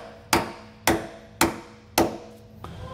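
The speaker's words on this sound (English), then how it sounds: "We are going to actually just thread our nut back on just a little bit so that we can hammer on our nut and not damage our bolt here." Steel hammer striking a nut threaded onto a trailer leaf-spring bolt, Dexter over-under spring setup: four sharp, ringing metallic blows at a steady pace, close and loud, with a fainter tap at the end.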